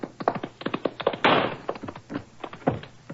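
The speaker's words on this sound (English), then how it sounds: "Good shot, Watson." A single gunshot burst in an old Sherlock Holmes radio drama set during a chase, a short noisy blast landing amid men's hurried dialogue.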